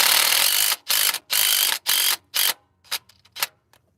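A hand ratchet turning a 12mm deep socket on a Toyota Prius engine during head gasket work: a run of rapid, loud clicking bursts in quick rhythm, then a few lighter, scattered clicks as it slows, close up with no talking.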